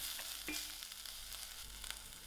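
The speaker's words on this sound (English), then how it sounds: "to my onions, I'm going to add in my ginger garlic and allow this to fry a little" Browned onions with freshly added ginger and garlic fry in a pan, giving a soft, steady sizzle with a few light stirring scrapes and no talking.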